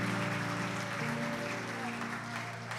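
A church congregation claps during a worship service, a steady wash of applause sitting under sustained keyboard chords that play throughout.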